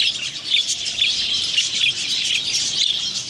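A pair of young budgie parrots chirping and squawking continuously at close range, a dense, busy chatter of rapid high tweets with no pauses.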